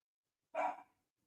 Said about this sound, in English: my dog never shuts up